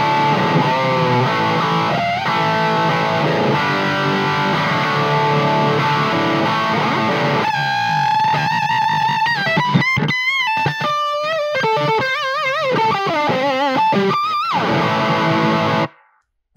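A PRS CE 24 Bolt-On electric guitar played through its bridge pickup rings out loud and unaccompanied, starting with sustained chords and moving into busier single-note runs before cutting off sharply.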